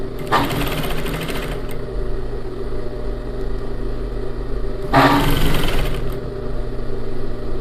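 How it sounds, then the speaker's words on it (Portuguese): A sewing machine stitching a seam of bias binding made from the same fabric, a close, steady mechanical whir running throughout with a brief surge of louder stitching near the start and again toward the end. "vou prendendo aqui com os dedos e vou fazendo a outra costura"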